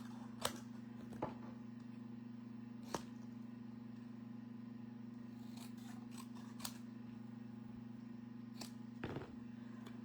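Scissors cutting a straight edge in card stock, a few sparse crisp snips spaced seconds apart over a steady low hum, close and quiet.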